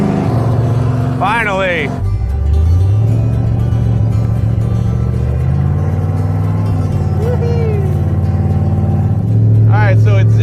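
Car engine idling and revving loudly in freezing 0-degree snowy weather, rising and holding its pitch as the revs climb, with people talking over it throughout.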